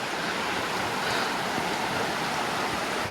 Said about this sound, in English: we can hear the water